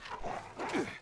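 A wolf pack in the Fallout 76 game gives short snarling barks and yelps, two quick harsh bursts close by within about a second.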